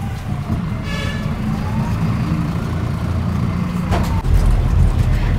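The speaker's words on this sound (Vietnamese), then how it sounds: "Đằng trước là cái xe cảnh sát." A police car siren wails ahead on a Saigon street, rising and falling through steady traffic rumble of cars and trucks, with a brief louder swell of engine noise near the end.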